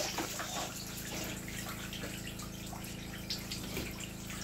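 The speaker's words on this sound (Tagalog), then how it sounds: "At Terwina, sa loob na naligo." Someone bathes indoors with a continuous, fairly faint rush of running and splashing water that holds steady throughout, with no talking.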